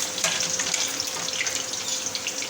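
Lamb ribs (tabaq maaz) frying in hot oil, a steady bright sizzle and crackle with scattered pops, close and continuous with no talking.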